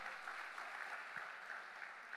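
Church congregation applauding during a sermon, a steady, moderately quiet wash of many hands clapping that holds evenly throughout without voices on top.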